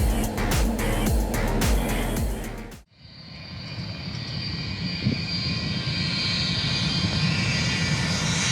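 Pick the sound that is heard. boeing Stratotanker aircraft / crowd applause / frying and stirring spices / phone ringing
boeing Stratotanker aircraft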